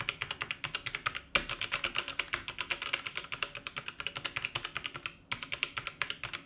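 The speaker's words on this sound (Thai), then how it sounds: "ลองกดฟังคีย์บอร์ดทั่วไปแบบ" Rapid typing on a regular computer keyboard, dense clicky keystrokes in a steady flurry with two brief pauses, close and clear with no voices.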